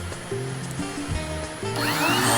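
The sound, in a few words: palm router cutting wood on a DIY lathe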